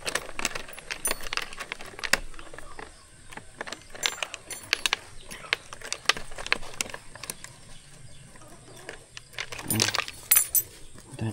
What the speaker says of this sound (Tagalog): Ito natin susi mga kaludoy.